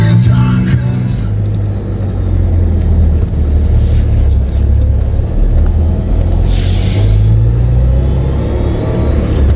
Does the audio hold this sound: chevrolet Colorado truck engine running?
yes